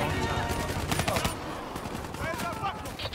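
Rapid automatic gunfire from a Call of Duty: Black Ops III battle, close and loud throughout, with bursts of shots layered over battlefield noise and shouted voices.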